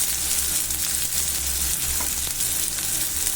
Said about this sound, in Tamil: தக்காளியோட உப்பு சேர்த்து நீங்கள் வதக்கும் போது தக்காளி வந்து சீக்கிரமாக வதங்கிடும்.